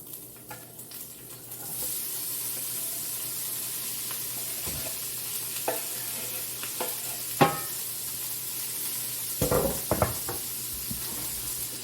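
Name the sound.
vegetables sizzling in frying pan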